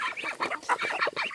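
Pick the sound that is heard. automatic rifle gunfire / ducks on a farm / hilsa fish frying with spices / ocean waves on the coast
ducks on a farm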